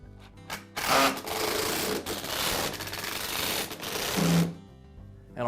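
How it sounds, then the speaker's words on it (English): A powered screwdriver drives screws into the switch housing of a Black and Decker mower, with close, buzzing whirs in short bursts separated by brief pauses. "And I'll secure this with the screws."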